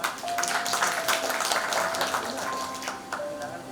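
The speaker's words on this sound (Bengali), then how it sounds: "ওদের জন্য আমি একটা হাততালি আশা করব" An audience at a stage programme claps for the sponsors, a steady patter of many hands lasting several seconds, with some voices murmuring underneath.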